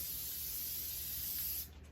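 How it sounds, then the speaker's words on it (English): Pallet adhesive sprays from an aerosol can onto a screen-printing platen in one continuous close, loud hiss lasting nearly two seconds, then cutting off abruptly. "give it a little spray, and that tack time's really quick"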